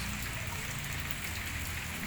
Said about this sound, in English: maybe the rain has arrived here in Bogor